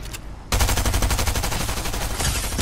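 Fast, loud automatic gunfire during a Fortnite fight, a steady rattling stream of shots that starts abruptly and runs without pause.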